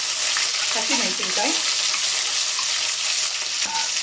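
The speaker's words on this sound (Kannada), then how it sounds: "ಮತ್ತು 1/4 ಟೀ ಸ್ಪೂನಷ್ಟು ಜೀರಿಗೆ ಹಾಕೋತಾ ಇದ್ದೀನಿ" Cumin seeds and urad dal sizzle steadily in hot oil in a pan, a close, continuous frying hiss with light stirring while spicy rava vangi is prepared.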